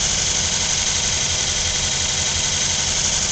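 A 2003 Dodge Durango's 4.7 liter V8 with 75,000 miles runs at a steady idle, a loud continuous engine drone close by with even, low rumble throughout and no talking.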